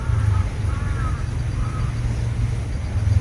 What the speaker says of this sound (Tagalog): Sumisigaw na ang mga itim na uwak.